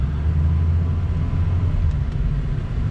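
A 2007 Ford F250 pickup engine runs in drive, giving a steady, close low rumble that holds even throughout with no talking.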